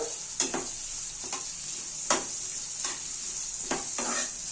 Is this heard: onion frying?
yes